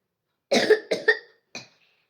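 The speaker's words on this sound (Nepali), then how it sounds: "मलाई खोकी लागेको थियो अघि" A sick person coughs in three harsh bursts, two close together and then one shorter after a pause, loud and near, with no talking.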